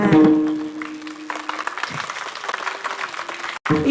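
Audience at a Marathi kirtan giving a short, thin burst of clapping, a few scattered hands rather than a full crowd, with a sustained tone and a voice faintly underneath.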